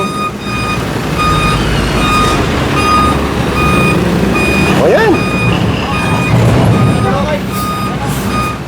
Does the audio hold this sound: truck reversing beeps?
yes